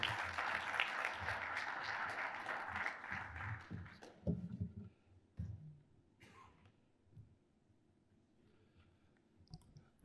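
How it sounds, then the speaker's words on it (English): Audience applause for a speaker at an energy talk, a dense burst of clapping in the first four seconds that quickly thins to scattered claps, taps and rustling. "So please, another round of applause"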